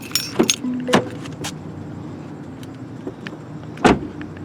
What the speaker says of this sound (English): when you approach the car and unlock the doors